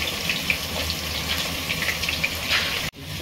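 Chopped onions hit hot oil among steamed vegetables while cooking vegetable pulao, giving a steady close sizzle and crackle that cuts off abruptly near the end.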